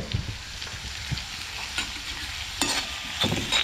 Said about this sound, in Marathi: ढवळतोय बसा कांदो मस्त पैकी ढवळतोय